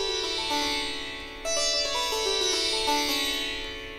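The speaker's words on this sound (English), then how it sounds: "if I just play all of the sympathetic strings in a row, it sounds like this" Sitar sympathetic strings plucked one after another with the pinky, giving a shimmering, ringing wash of overlapping tones that rises in brief steps, close and moderately soft.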